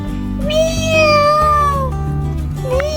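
A narrator's voice imitates a cat's meow for a cat stuck fast in a door, giving drawn-out, wavering cries up close: one long meow, then a shorter one after a pause.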